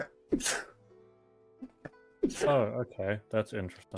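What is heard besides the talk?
sneeze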